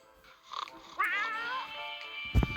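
A cat meows in a video game, a short rising-and-falling cry under game music, ending with a brief low thump.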